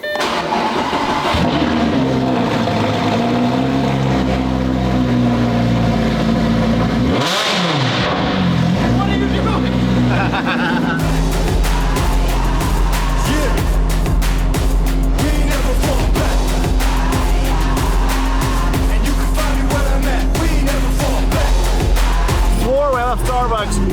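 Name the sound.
supercar engine cold start and revving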